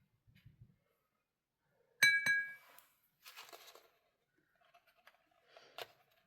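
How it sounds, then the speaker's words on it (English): A paintbrush tapped against a drinking glass to shake off excess water gives a quick cluster of bright clinks, then a couple of softer taps, close by in a quiet room during a watercolor painting session. "so that sound is just me tapping the excess water off."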